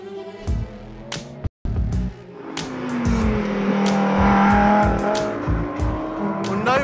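A Ford muscle car's V8 motor roars and revs hard under acceleration at a Fontana track, loud and close with rising engine pitch, one brief cutout, and a sustained high-revving howl through most of the stretch.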